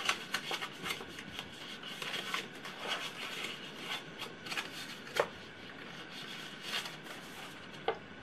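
Paper creased and folded for a square mini album, a steady soft rustling and rubbing with scattered crisp snaps as folds are pressed down, close and quiet, with no voices.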